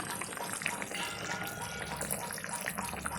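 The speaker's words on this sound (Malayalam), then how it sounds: "കുറച്ചും കൂടെ വെള്ളം ഒഴിക്കാം" Steady running water pours continuously into a pot of chicken curry, a broad splashing wash of sound with no pauses and no voices.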